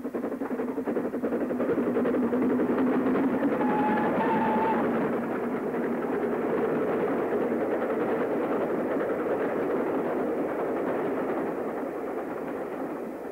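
Steam locomotive 42942 hauling a rail tour near Upton on the Wirral, working hard to gain speed toward a climb, a steady loud rumbling chuff with a brief whistle-like tone near the start, continuous throughout.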